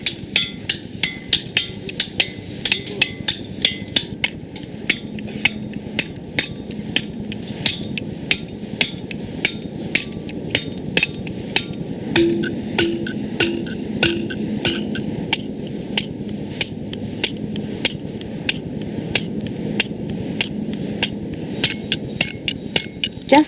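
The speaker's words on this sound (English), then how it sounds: "they're using hammer and chisel to knock the marble into shape" Steady, rhythmic metallic taps of a hammer striking a chisel, shaping marble in Athens, repeating about twice a second for a long stretch with no talking.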